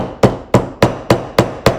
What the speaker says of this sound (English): I'm just gonna line this up so I know where I'm hitting with that hammer